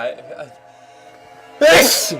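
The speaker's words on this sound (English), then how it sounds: "I have to sneeze actually" After a quiet, breathy build-up, a single loud, explosive sneeze bursts out near the end.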